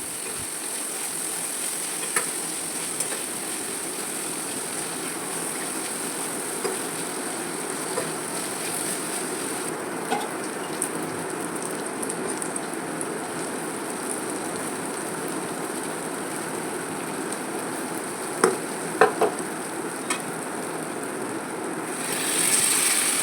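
Bitter gourd fries in a pan with poppy seed paste, giving a steady, soft, rain-like sizzle throughout, with a few faint clicks of stirring.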